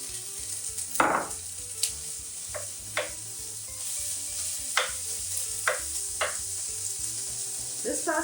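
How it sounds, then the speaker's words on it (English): Minced meat frying in a pan, a steady close sizzle punctuated by repeated spatula scrapes and knocks as it is stirred and broken up. "Okay, then we're gonna add our minced meat"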